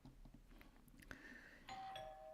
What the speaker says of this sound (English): I know who's ringing the doorbell.